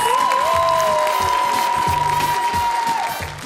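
A TV studio audience claps steadily and continuously while a sustained musical tone holds over the applause, which fades toward the end.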